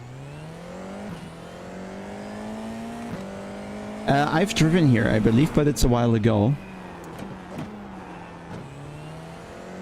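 Race car engine in iRacing drones steadily at low level throughout, with a louder passage of rising and falling revs midway, under someone talking.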